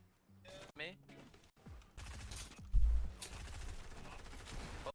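Rapid SMG fire in Fortnite bursts out in short loud volleys, with a heavy thud partway through and game effects layered under the shooting.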